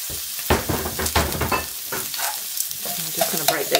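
Thinly sliced onions fry in a pan among crispy beef mince bits, a loud close sizzle broken by repeated scraping stir strokes in an uneven rhythm, with no voices.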